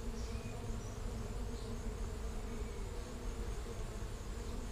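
Honeybees building comb inside a hive fill the air with a dense, continuous buzzing drone, steady and close with no pauses.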